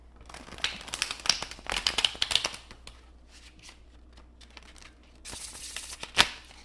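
Thick oracle card deck being shuffled by hand, close and crisp: bursts of riffling flicks and rapid slapping clicks, a pause, then another flurry ending in a sharp snap.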